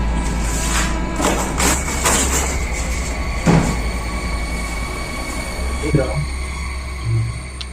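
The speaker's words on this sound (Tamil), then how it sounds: "ட்ரெயின்" A train rumbles past at close range with a heavy low drone, rattling wagons and sharp metallic wheel squeals and clacks; people talk briefly over the noise.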